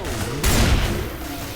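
A short burst of gunfire from the video game Left 4 Dead 2, a loud booming volley that swells midway through, with players talking over it in the background.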